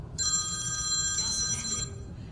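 A phone rings with a bright electronic trill, a single sustained burst of ringing over low background noise, fairly close.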